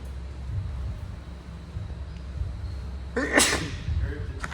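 A single sharp sneeze bursts out near the end, loud and close, over a low rumbling background.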